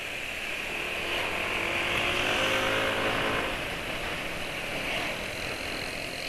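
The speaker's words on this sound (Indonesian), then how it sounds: "tapi ini nyatanya suara mesin kasar" A hot car engine idling roughly after an Omega 909 oil additive was added, a steady, close, unbroken mechanical drone with a coarse, uneven texture and no voices over it.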